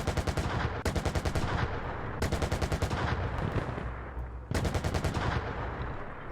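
Automatic gunfire from a weapon in the ArmA military video game, three long rapid bursts of closely spaced shots, loud and close, with pauses between them and no voices.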